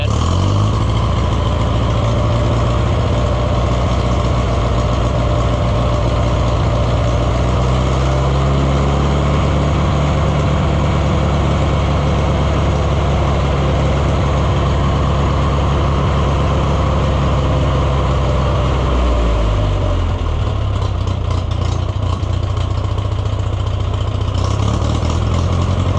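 An Oliver 1250 tractor engine running steadily after a fuel system cleaning, a loud, close, continuous diesel drone whose pitch shifts up and down for stretches before settling back.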